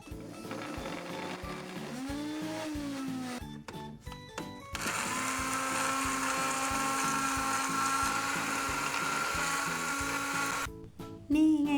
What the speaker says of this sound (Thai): เราก็จะนำชาเรามาปั่นนะคะเพื่อน ปั่นปั่นด้วยเครื่องปั่น